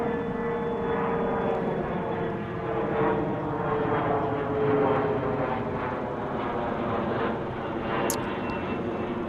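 Airliners taxiing and pushing back at DFW airport, a loud continuous jet engine rumble and whine that swells and eases slightly, heard nearby with no talking.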